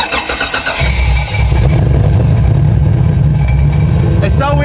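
A Corvette engine rumbles nearby, heard through a hole in the car, a deep steady idle with throaty low pulses, with people talking over it as it runs.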